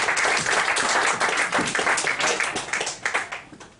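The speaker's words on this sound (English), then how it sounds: "Give them a round of applause." A live audience at a comedy mind-reading show gives a dense round of applause that holds steady and then thins into scattered claps as it fades out.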